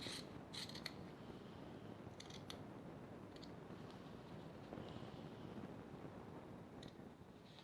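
Scissors snipping into the corners of fabric at stitched seams, a few faint, short clusters of cuts scattered over steady background hiss, quiet and close, with no talk.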